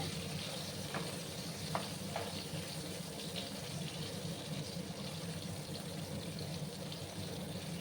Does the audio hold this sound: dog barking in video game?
no